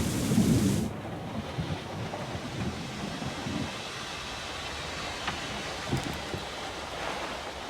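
A thunderstorm in the Syberia IV game opens with a loud thunder crack, then settles into a steady wash of rain with faint distant rumbles and a brief sharper burst later on.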